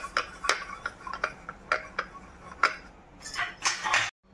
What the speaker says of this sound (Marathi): पूर्ण चाळण्यांना आपण अशाच पद्धतीने तेल लावून घेणार आहोत।